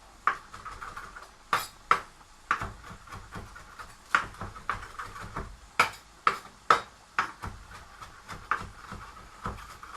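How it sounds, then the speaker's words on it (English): A knife chops fresh basil leaves on a board in a home kitchen, a series of sharp irregular taps, close and fairly loud, with quieter rustles between strikes and no talk. "Discard the stalks and just give them a little chop up."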